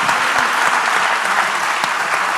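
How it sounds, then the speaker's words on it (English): Conference audience applauding the panel moderator at the EURAXESS Biennial Conference, a dense continuous burst of clapping from many people, fairly close and even throughout. "let's give a round of applause to the moderator of this panel"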